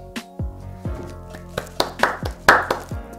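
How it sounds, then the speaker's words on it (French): A run of sharp hand claps or taps, irregular and fairly close, about a dozen strikes over a few seconds with a low droning background underneath. "je t'applaudis, hein."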